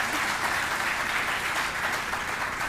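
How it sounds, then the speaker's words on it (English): Sustained audience applause fills a hall during an awards ceremony, dense steady clapping from many hands holding at an even level throughout. "Yeah, another round of applause."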